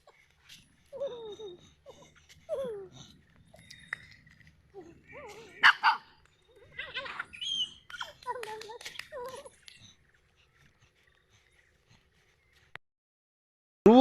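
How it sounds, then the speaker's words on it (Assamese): A dog barks in several short bursts during a fight with a cow, mixed with scattered voices, a child's chatter and some laughter nearby. "গৰু আৰু কুকুৰৰ বম কাজিয়া হয়।"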